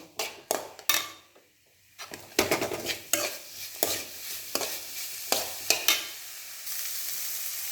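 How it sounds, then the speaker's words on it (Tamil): Chayote and green pea stir-fry being stirred in a pan with ground coconut, green chili and cumin paste: repeated scraping strokes and clinks of the spoon over a low sizzle, close and distinct. "அதில் நல்லா ஒரு கிண்டு"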